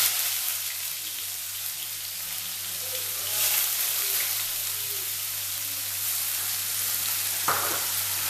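Chopped onions dropped into hot oil in a kadai, sizzling and hissing steadily at moderate volume, with a brief clatter near the end and no talk.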